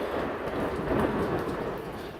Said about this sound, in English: storm's getting pretty bad out there